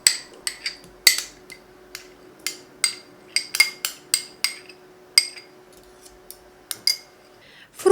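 Whisking walnut cake batter with sour cream in a bowl: a close, uneven series of sharp metallic clinks and taps against the bowl, separated by short quiet gaps, with no talking.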